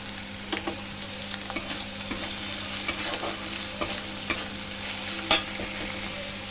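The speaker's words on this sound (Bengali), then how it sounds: "এখানে কাজু পোস্ত আর মৌরি বেটে রেখেছিলাম সেটা একসঙ্গে দিয়ে দিলাম" Onion, ginger and garlic fry with a cashew, poppy seed and fennel paste in a steady close sizzle, broken by intermittent taps and scrapes of stirring.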